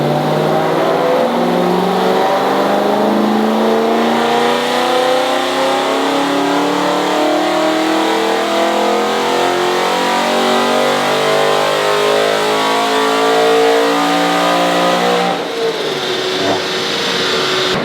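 BMW M3 engine revving hard on a dyno during its first run, a loud sustained climbing roar that rises steadily in pitch for many seconds before dropping off near the end, with no talk over it.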